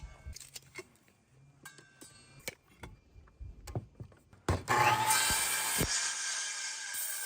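A saw makes a test cut in pallet wood for a half lap joint. Light taps and clinks come first, then a loud, harsh, sustained cutting noise starts abruptly and runs for about three seconds.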